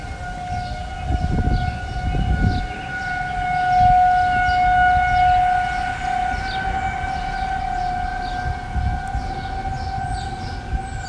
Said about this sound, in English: Oh, there goes the sirens.